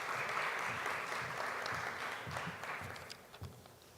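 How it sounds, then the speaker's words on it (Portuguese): A panel audience applauds a speaker being introduced, a soft, somewhat distant patter of clapping that thins toward the end with a few louder claps. "Por favor, Camila, uma salva de palmas."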